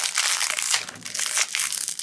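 Close, steady crinkling and crunching of a plastic toy blind bag being cut open with scissors and handled, continuous for about two seconds with no talking.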